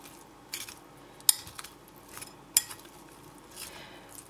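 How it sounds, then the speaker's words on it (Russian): Cutlery stirring a salad of seeds, turmeric and red pepper in a bowl, giving a few sparse clinks and scrapes at close range, with quiet gaps between them. "Все это перемешиваем."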